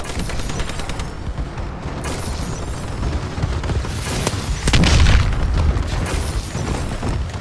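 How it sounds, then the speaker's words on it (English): Friendly bombing run explosions in Call of Duty Advanced Warfare roll in as a dense, loud barrage of booms and rapid gunfire, swelling into a heavier blast near the end. "Friendly bombing run incoming."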